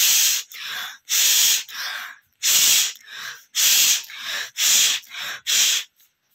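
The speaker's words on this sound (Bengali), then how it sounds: "অনেক জোরে জোরে নাক ঝাড়ার ভিডিও।" Loud, forceful nose blowing, about nine hard bursts of rushing air in a steady rhythm with short pauses between them, very close.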